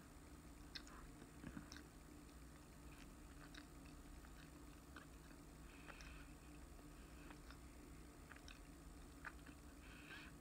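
Someone eating sweet cornbread served with a roast pork meal, with faint, sparse chewing and soft bites scattered across a quiet room and no talking.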